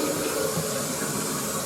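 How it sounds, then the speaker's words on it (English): Water rushes into an empty TOTO Drake toilet tank after the supply is turned on, a steady, close hiss of filling and splattering with no talk. "Let's turn on the water. Splatters a little bit when it's empty,"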